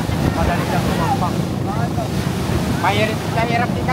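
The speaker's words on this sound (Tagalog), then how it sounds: "Medyo mahangin." Gusty wind on Mapanuepe Lake buffets the microphone from a boat, a loud continuous rumble and rush of air with water sounds underneath while people talk over it.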